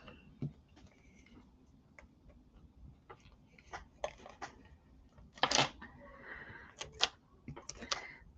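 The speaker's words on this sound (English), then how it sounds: "So I'm going to use my tape runner on this side." A tape runner lays adhesive on paper for a scrapbook layout, making faint, scattered ticking clicks in small irregular bursts against a quiet room.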